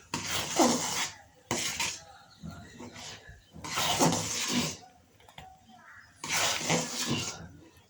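A spatula scrapes chickpea halwa around a pan in four separate broad strokes, each a rough, gritty scrape. Quieter gaps fall between them, with faint low murmuring underneath.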